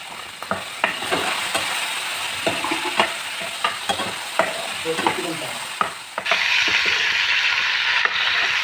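Broiler chicken frying in a pan with potato and onion, a steady sizzle punctuated by regular scraping clicks of a spatula stirring, growing louder and hissier in the last couple of seconds.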